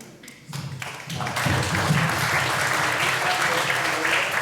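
Applause for professor Carlo Iandolo swells from a few scattered claps into steady, dense clapping from an audience at an academic event, loud and sustained to the end.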